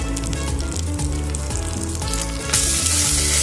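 Spices including red chili powder, Kashmiri chili, ginger paste and turmeric fry in a pan for cauliflower and potato dalna, a loud, steady sizzle with rhythmic stirring and a sharp hiss surge near the end.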